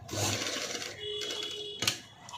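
A sewing machine stitches a padded blouse with a brief, close whirring run and a sharp mechanical clack near the end, no voices.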